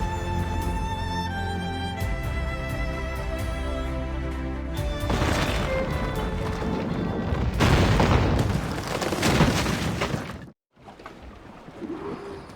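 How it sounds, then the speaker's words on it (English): Ship cannons in the naval combat of Assassin's Creed Rogue fire heavy booming volleys that swell into a loud rolling barrage, then cut off to a brief silence before faint sea and ship ambience returns. "Take the shot, sir! Cannon ready! Fire!"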